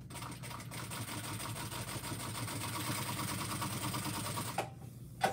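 A sewing machine stitches a tote bag in a steady, rapid mechanical whir that runs close and even for several seconds before stopping, followed by a brief clack.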